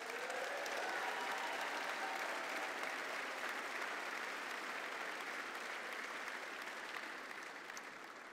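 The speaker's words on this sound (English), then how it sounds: "we need to give them a big round of applause" Sustained applause from a large audience at a Ukrainian-Canadian community event, dense and steady throughout, tapering off slightly toward the end.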